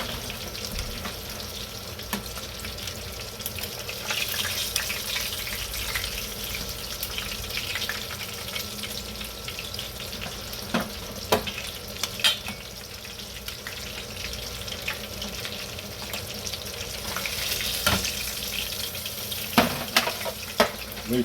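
Food fries in a pan, a continuous hiss and sizzle with scattered clinks and scraping, mixed with watery rushing sounds, moderately loud throughout.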